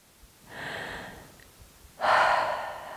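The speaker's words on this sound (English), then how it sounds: "You could see my belly when I just take a nice deep breath." A singer takes a deep breath in, a soft airy inhale followed by a louder, fuller rush of breath near the microphone, with no talking.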